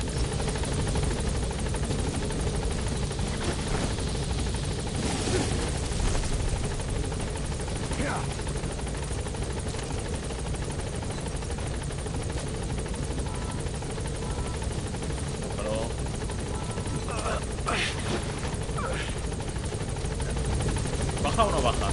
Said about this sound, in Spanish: ¿Cómo llama el helicóptero, tío?